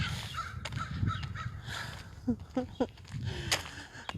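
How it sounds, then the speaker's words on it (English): Several harsh crow caws ring out in short bursts over faint background noise, fairly close and irregularly spaced. "Hear the birds singing away."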